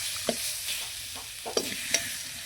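Food stirred and fried in a pan in a rural Bengali home kitchen, a low steady sizzle broken by a few sharp scraping clinks of the spatula, close and moderately quiet with no talking.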